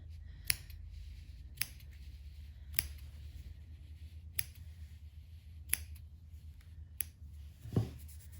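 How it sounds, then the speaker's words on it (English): Quiet, sharp snips of scissors trimming a knitted yarn fringe at irregular intervals, about seven crisp clicks over a soft background hush. "we're just gonna take some scissors and just trim it however you feel is the right length"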